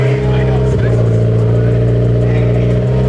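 A turbocharged Honda S2000 AP2 with a newly installed exhaust idles close by, a loud, steady, deep drone with a slight blip near the start.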